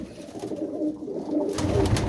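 Pigeons of a red-headed, white-eyed fancy breed cooing in a loft, a steady low murmur throughout that grows louder and busier toward the end, with no talking.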